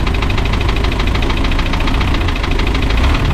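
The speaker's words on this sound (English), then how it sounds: "Thing I notice is that he idles a lot smoother." A Spryte car engine running at a steady idle after new Zexel fuel injectors were fitted, loud, close and even, with a continuous rhythmic knock and vibration and no voices.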